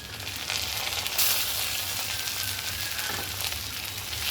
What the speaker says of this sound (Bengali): আদা রসুন বাটা ভালো করে ভাজা করে নেব